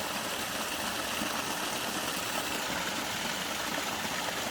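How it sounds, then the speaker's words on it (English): A small stream at a mini ice waterfall at Big Hill Springs, Alberta, makes a steady, soft rushing trickle of water that continues evenly without pause. "Listen to those wonderful little water sounds from Big Hill Springs"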